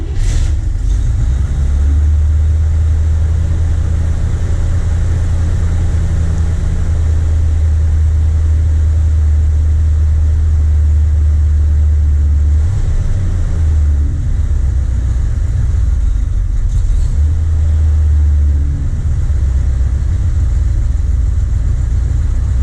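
A 1979 Corvette engine cranks, catches and runs steadily with a loud, deep low rumble, dipping briefly twice as the revs fall and recover; no talking over it.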